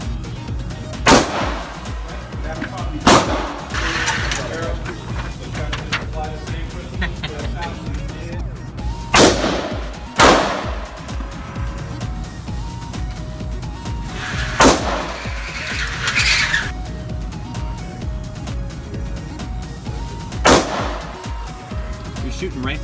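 Firearm shots fired at a target on a range, a handful of sharp loud cracks spaced irregularly a few seconds apart, with people talking between shots.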